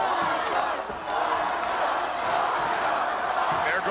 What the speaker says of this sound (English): There goes the crowd again.